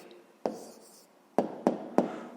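A hand writes a math answer with pen on paper in a quiet room, giving a few short scratchy strokes and taps, one alone and then three in quick succession.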